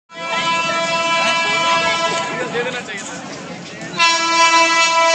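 A passenger train waits at Masagram station on the Purulia to Howrah via Bankura line, sounding a long sustained horn that holds loud and steady throughout, with a brief dip and then a renewed blast near the end.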